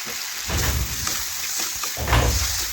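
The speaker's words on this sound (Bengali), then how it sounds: "মশলার সাথে একটু কষে নিচ্ছি আলু গাজর।" Potatoes and carrots being sautéed with spices in a pan for a vegetarian soybean curry, giving a steady loud sizzle and crackle with a few swells of stirring.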